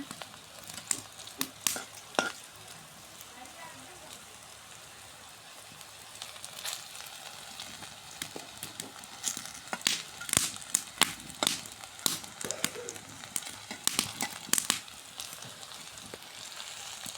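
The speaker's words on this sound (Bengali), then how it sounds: "কাঁচা কলা ভাজিটা দেখুন কত সুন্দর। ধীরে ধীরে ভাজে নেওয়া হচ্ছে।" Raw banana slices fry slowly in a pan, giving a steady low sizzle broken by sharp crackles and pops that grow busier toward the end, with no one talking.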